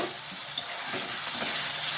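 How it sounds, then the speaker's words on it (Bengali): Spice masala with tomato being stirred and fried in a pan, a steady close sizzle with soft scraping strokes running throughout, no voices. "মশলাটাকে ভালোভাবে একটু কষিয়ে নিচ্ছি।"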